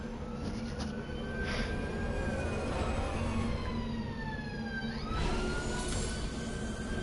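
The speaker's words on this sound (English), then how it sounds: "Sorry, you can probably hear that siren." A wailing siren rises and falls steadily over a constant low rumble, heard from a distance outside with no talking.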